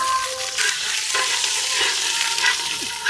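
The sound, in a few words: small onions and chillies frying in oil in a pot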